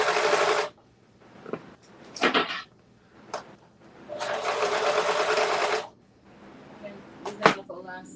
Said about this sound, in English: So Merlinda, flip where you didn't sew in, and that's where I like to sew first